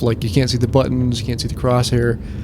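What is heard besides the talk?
None of the usual background noises is heard.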